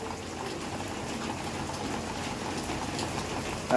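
Steady rain falls in a village, a soft continuous patter of drops on surfaces with a faint watery splash underneath, quiet and unbroken throughout.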